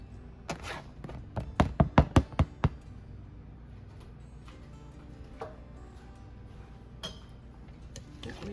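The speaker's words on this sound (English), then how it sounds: "Okay, I'm gonna add in our tater tots." Diced frozen tater tots tumble into a pan, a quick burst of sharp clattering thunks and taps, followed by sparse faint clinks and kitchen handling.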